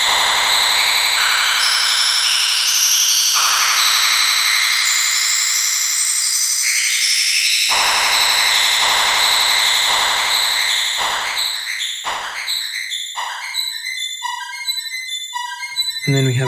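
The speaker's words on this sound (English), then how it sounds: "by combining all of these, decay and spread and brightness, you can wind up in a pretty full spectrum noise situation." Spectral Harp software synth with decay, spread and brightness raised, swelling into a loud, dense full-spectrum noise wash that later breaks into descending plucked tones and choppy bursts, with no voice over it.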